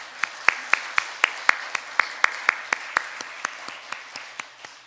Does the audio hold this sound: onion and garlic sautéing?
no